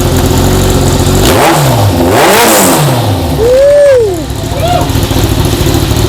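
A big motorcycle fitted with an aftermarket Avionics exhaust revs hard in a few loud, swelling bursts that rise and fall close by, with a brief whine near the end.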